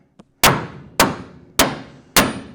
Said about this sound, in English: You can hit the hammer right there.